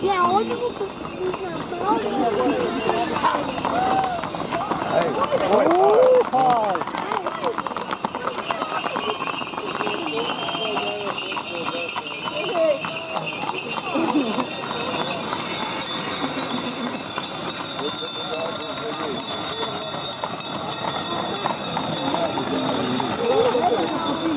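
Horses' hooves clip-clop on a road during a pilgrimage ride to Marija Bistrica, a busy, uneven clatter that runs throughout under someone talking and other voices nearby.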